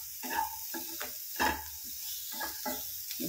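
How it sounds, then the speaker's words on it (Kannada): Cauliflower coated in rasam powder fries dry in a pan, with a quiet background sizzle broken by repeated short scraping bursts from stirring at an uneven rhythm. "ಫ್ರೈ ಆಗ್ತಾ ಇದೆ."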